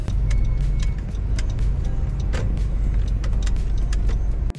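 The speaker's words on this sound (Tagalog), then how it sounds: "it's a typical traffic dito sa crossing na to" Busy road traffic at a crossing on Aurora Boulevard in Metro Manila, a steady loud rumble of passing cars and vehicles with engine noise filling the scene throughout.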